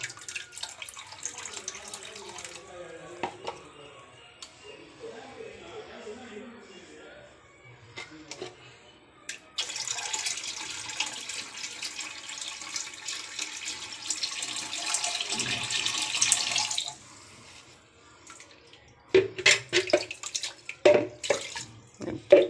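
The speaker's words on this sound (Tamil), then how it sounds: "இந்த தண்ணியெல்லாம் ஊற்றிட்டு வந்துடுறேன்" Water is poured into a clogged wash basin drain after caustic soda treatment, a sustained splashing rush in the middle of the clip followed by scattered drips and clatter, with quiet talk earlier.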